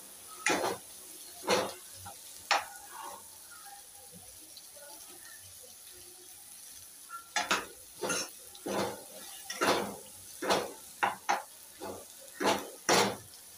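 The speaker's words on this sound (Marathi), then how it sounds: "याला 1-2 मिनिटं परतून घेतलं." Soya mince is stir-fried in a pan on a home stove, with repeated scraping and clinking of a spatula against the metal pan in irregular bursts over a soft sizzle, close and alone.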